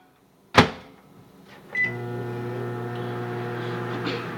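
A microwave oven heating chocolate for chocolate-covered pretzels: a sharp door thump, then a brief beep and a steady close hum with mains drone that runs on unbroken without voices.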